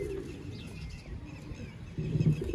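Chapray breed pigeons in a loft in Sialkot cooing, low throaty coos near and continuous, swelling louder toward the end.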